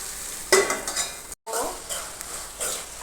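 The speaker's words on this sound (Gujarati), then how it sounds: "પેસ્ટ બરાબર સંકળાઈ જાય ત્યાં સુધી આપણે તેને તેલમાં સીજવા દઈશું." Ginger, garlic and chili paste frying in oil in a pan, with close stirring strokes, spoon clinks against metal and light sizzling, briefly cut off by a moment of silence midway.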